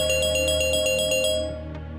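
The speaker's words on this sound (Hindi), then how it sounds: "इसका फोन आ।" A mobile phone rings with an incoming call, a rapid series of bright, evenly spaced electronic beeps that repeats loudly, then cuts off abruptly and leaves a faint tail.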